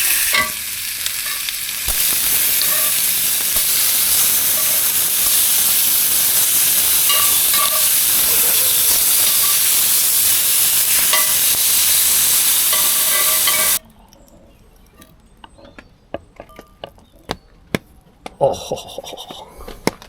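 Bacon sizzling loudly in a pan at a campsite makes a steady dense hiss for about fourteen seconds, then cuts off, leaving quieter scrapes and clatter.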